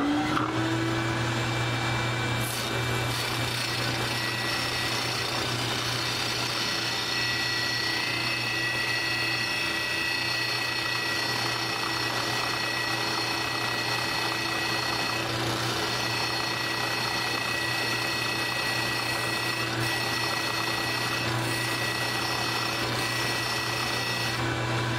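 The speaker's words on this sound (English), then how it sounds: "So now I can hold on to this, sand down to my line." A power sander grinds down a guitar bridge saddle, a steady close whirring drone that runs without a break from start to finish.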